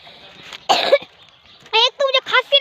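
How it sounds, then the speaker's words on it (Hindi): A man with a lingering cough coughs once harshly, then gives a quick series of four rough, voiced coughs close to the mic while out on a village walk, with brief muffled sounds between. "एक तो मुझे खांसी ने तंग कर लिया,"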